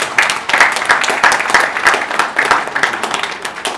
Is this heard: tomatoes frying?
no